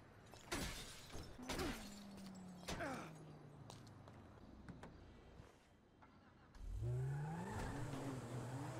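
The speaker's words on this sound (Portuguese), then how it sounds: "Pra que vai quebrar o carro?" Several sharp crashing impacts and glass shatters as a car is smashed in GTA 5, separated by short pauses, followed by an engine revving up loudly near the end.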